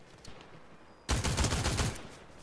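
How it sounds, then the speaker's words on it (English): Burst of rapid automatic gunfire in Fortnite, a dense loud rattle that breaks in suddenly after a quiet stretch and rolls on for about a second, with no talk. "Seems I'm getting shot at."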